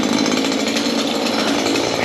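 A 2-stroke petrol hedge trimmer runs continuously close by, a loud buzzing engine drone that stays steady throughout.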